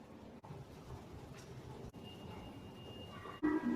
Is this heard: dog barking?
no